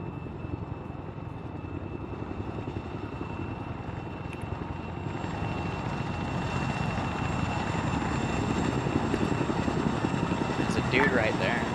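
Chinook helicopter in the Arma 3 video game, its rotor chop and engine drone holding steady and growing slightly louder across the stretch, with faint radio chatter underneath.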